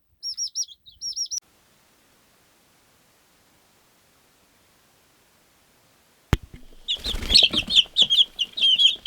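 Baby chicks chirping, a short run of high peeping calls, a long stretch of silence, then a louder burst of busy overlapping peeps close by, with no talk.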